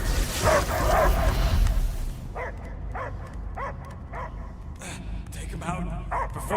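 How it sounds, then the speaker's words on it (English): A dog barks repeatedly in short, yipping bursts with brief gaps in the Guardians of the Galaxy video game, after a loud, noisy opening with a voice. "I hear only barking."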